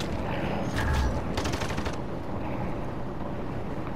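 Gunfire in the video game Modern Warfare 2 during an online match: a dense burst of rapid shots rises briefly over a constant rumbling game background, then fades back into the steady noise.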